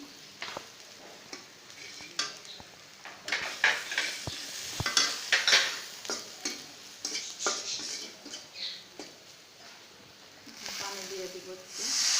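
Rui fish frying with turmeric and chili powder in a pan, giving a steady sizzle broken by repeated clanks and scrapes of a spatula stirring against the metal, moderately close.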